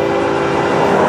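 FEC105 freight train on the East Main passing close by as a steady loud rumble of wheels and cars, with a faint sustained tone that may be a distant horn.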